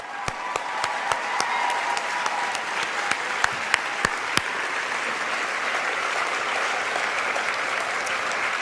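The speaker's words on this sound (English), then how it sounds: "I really would like you to join me in giving the Odyssey staff a warm round of applause." An audience gives a warm round of applause for the staff at a lecture or ceremony, steady dense clapping that holds evenly throughout with a few sharper individual claps standing out near the start.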